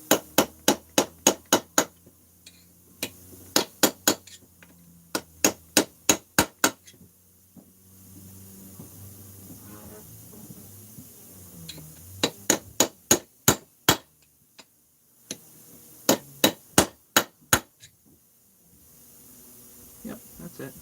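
Hammer blows driving a seal into a 660 port with a seal driver, sharp metallic strikes in rapid bursts of several hits, separated by quiet pauses, close and loud with no talk.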